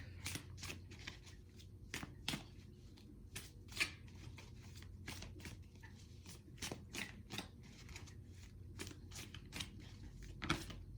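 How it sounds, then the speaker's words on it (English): Tarot cards are shuffled close by in quick repeated riffles and taps, soft and crisp, with no talking. "even when I first started using them, like the first day I went to go shuffle"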